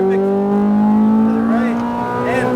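A Ferrari F430 accelerates on a track past orange cones, its engine note climbing steadily in pitch and loudness, close and prominent while an instructor's voice talks over it.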